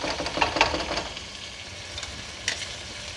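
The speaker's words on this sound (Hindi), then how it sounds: "ये देखिए 10 मिनट हो गए इसे मुझे भूनते हुए" Mutton karahi with chopped green chillies frying in a pan, Peshawari namkeen style, gives a soft steady sizzle with a few louder scraping stirs early on, then settles to a quiet hiss with one more brief clatter.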